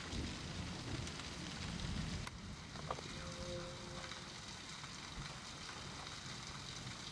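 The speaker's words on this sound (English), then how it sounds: "I absolutely love the sound of rain" Steady rain in a video game hisses continuously with a low rumble underneath and a brief muffled thud partway through; no voices.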